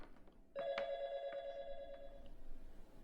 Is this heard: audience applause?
no